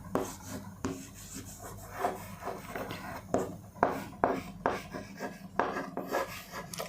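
Chalk or marker scraping across a board as a biology lesson labels neutrophils, a run of short rubbing strokes in uneven rhythm, close and moderately loud, with no speech over it.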